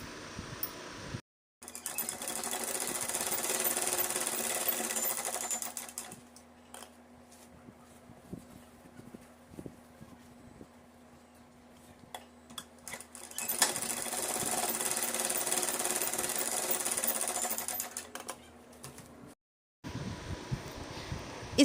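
A sewing machine stitches a dart on a dress in two long loud bursts of rapid mechanical whirring, separated by a quieter stretch of handling and light clicks, with brief stops at both ends.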